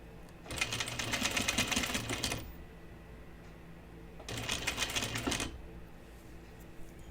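Two bursts of domestic sewing machine stitching while a garment is sewn, each about two seconds of fast, even chatter with a short pause between, close and moderately loud.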